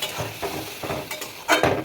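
Masala paste with ground tomato, salt and sugar is stirred and fried in a pan for a Bengali fish curry, with uneven scraping strokes of a spoon over a soft sizzle, loudest near the end.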